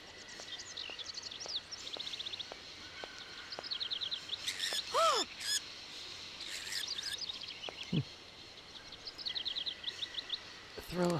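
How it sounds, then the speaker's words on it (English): Birds chirp in the PC adventure game Syberia, repeated short tweets and trills in scattered bursts, fairly faint against a quiet outdoor game ambience, with a couple of lower whistling calls. "Okay, got some birds."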